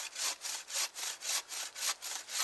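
A bow saw cuts through sound, unrotten deadfall wood outdoors, each steady back-and-forth stroke giving a rasping hiss, about nine even strokes close up with no talk.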